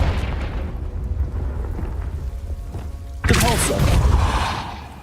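Confringo fire spell cast in Hogwarts Legacy: a low rumbling backdrop broken by one sudden loud explosive burst that roars and decays over the final two seconds.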